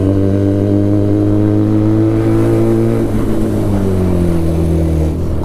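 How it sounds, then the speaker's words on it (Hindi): A Benelli TNT300 motorcycle fitted with an Ixil full-system exhaust revs loud and close, its steady engine drone rising and falling as the throttle is pulled and gears shift, with no talk over it. "एक्सीलेटर खींच रहा है और गियर शिफ्ट हो रहे हैं"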